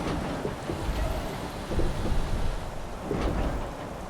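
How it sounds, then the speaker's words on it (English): Steady rain with low rumbling thunder inside a truck-driving video game, a constant wet hiss with swelling rolls of thunder, no voices heard. "That rain needs to stop."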